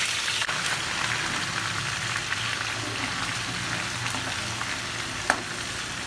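Garlic ginger paste and curry leaves fry in hot oil for a masala fish curry, a steady close sizzle and crackle with occasional small pops.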